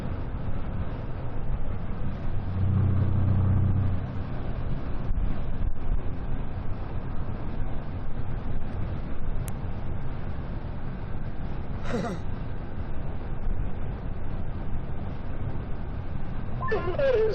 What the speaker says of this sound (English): the wind's just blowing me all over the road